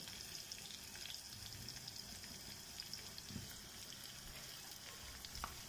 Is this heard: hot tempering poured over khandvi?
yes